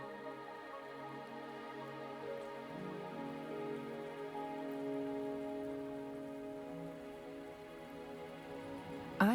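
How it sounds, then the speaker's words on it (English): Steady rain falling in the video game Wuthering Waves, a soft, even patter on surfaces under a quiet tonal music bed. "Are you trapped here by the rain?"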